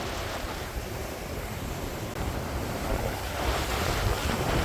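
A rough sea throws waves over tetrapods at an outer harbour wall, making a dense, continuous roar of surf and splashing with strong wind buffeting the microphone, loud and close.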